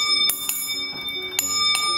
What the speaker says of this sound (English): It's the service bell.